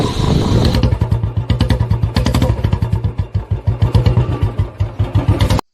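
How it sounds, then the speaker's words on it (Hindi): A group of six BMW motorcycles rumbles close by on a mountain road near Chopta, Uttarakhand, with loud, steady, rhythmic engine pulsing that cuts off abruptly. "ये 6 बाइकें थी और सब की सब BMW बाइकें थी"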